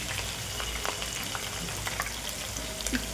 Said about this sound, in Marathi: मिरच्या तळायला टाकून दिल्या